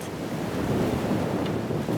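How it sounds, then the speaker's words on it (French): Roaring ocean waves and strong wind buffet a sailboat in rough seas on the way to Antarctica, a continuous loud rushing wash with wind noise across the microphone. "on entend tellement le bruit des vagues qui rugit et du vent"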